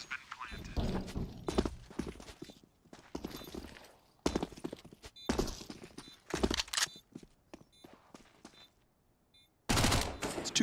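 Counter-Strike match gunfire, including Scout sniper shots in a professional IEM Katowice 2022 game, rapid clustered bursts of shots and footsteps coming in uneven waves with gaps, fairly close, while a commentator talks over the action.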